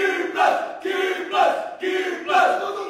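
A crowd cheers and chants for the Indonesia Maju coalition in three loud, rhythmic swells about a second apart, each rising and then dropping back before the next.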